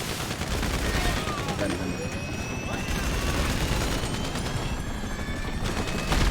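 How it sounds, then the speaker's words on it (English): Enemy gunfire in GTA 5 Online during the Diamond Casino mission Strong Arm Tactics: a dense, continuous fusillade of overlapping shots and bursts, loud and steady throughout. "Why are they always shooting at me?"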